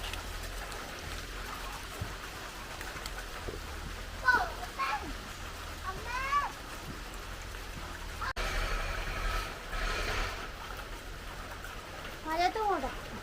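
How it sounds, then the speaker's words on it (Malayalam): Rain falls as a steady soft hiss outdoors at a home, with scattered birdsong chirps and faint voices, including a child, in the background. "മഴ പെയ്യുന്ന പറഞ്ഞ ആ മഴയുണ്ട്"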